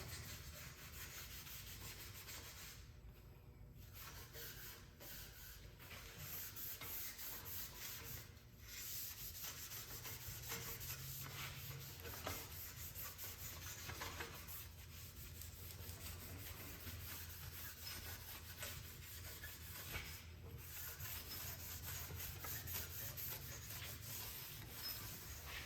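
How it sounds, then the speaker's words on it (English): Red abrasive pad wiping over an aged steel paint finish, a steady continuous rubbing and scuffing that runs close and fairly loud throughout, with brief pauses between strokes. "this red pad and just wipe everything down"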